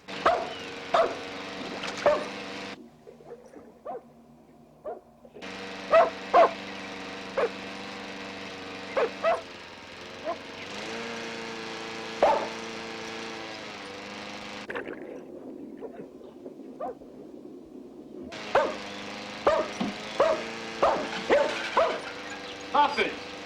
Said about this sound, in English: go see what the hound is barking at